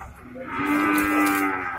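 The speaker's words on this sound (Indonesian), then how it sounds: "sapi nang gede." Cattle at the Ajibarang livestock market in Banyumas give a long, drawn-out moo, close and clear over faint market background noise.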